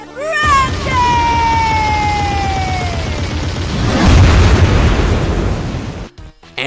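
Loud explosions boom in a long continuous roar that swells toward the end, with a falling whistle-like tone at the start and a sudden cutoff near the close.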